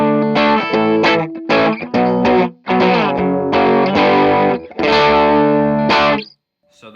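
Electric guitar through a Superbolt overdrive pedal set for natural amp breakup, loud, close chords and riffs in several bursts with short gaps, ending in a brief high note then silence.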